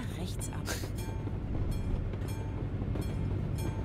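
A train in the Euro Truck Simulator 2 video game rumbles past steadily with a loud low drone and rhythmic clatter, metallic clinks and hiss on top, continuous throughout.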